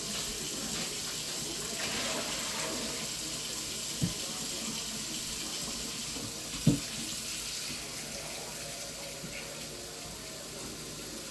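Tap water runs steadily into a cooking pot for soup, a constant broadband rush with a couple of faint clinks against the pot and no talking.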